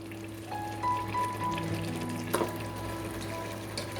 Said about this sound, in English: So we have already poured in the mutton